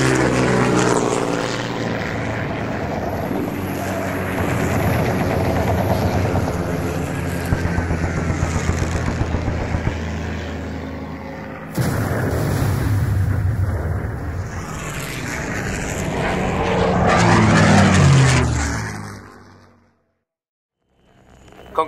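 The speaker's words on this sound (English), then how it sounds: "And more Spitfires are arriving." Spitfire aircraft in a wartime dogfight over the Skegness coast, staged as an audio drama effect: loud propeller engines roar, swell and pass, then fade to silence near the end.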